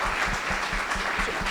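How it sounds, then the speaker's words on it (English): A conference audience at a New Jersey cannabis entrepreneurs' event claps steadily, a dense, close, fairly loud wash of many hands with no pauses across the short stretch. "Let's give Neil a round of applause, please."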